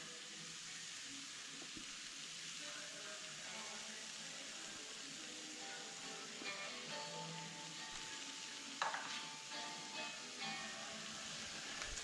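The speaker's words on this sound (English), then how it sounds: "the next thing to go in is the diluted tomato puree" Diluted tomato puree goes into a hot pan of chicken bhuna curry, setting off a steady, soft sizzle and bubbling that carries on throughout, with a brief clatter near the end.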